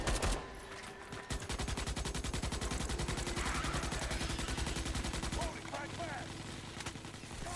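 Rapid gunfire in Starship Troopers: Extermination crackles in a dense, continuous burst of repeated shots after a brief opening pause, with battle noise layered around it and a voice faintly in the mix.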